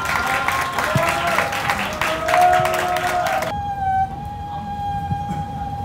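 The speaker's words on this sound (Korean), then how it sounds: "힘찬 박수 부탁드립니다." An audience claps steadily, a dense wash of applause that cuts off abruptly partway through, leaving a sustained musical tone behind.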